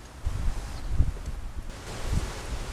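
Cold wind blows outdoors during a car brake job, a rough low rumble of gusts hitting the microphone in short surges over a few seconds, close and unaccompanied by voices.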